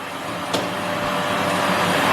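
Vacuum cleaner running indoors, a loud steady whooshing whine that holds for a couple of seconds with a brief knock early on.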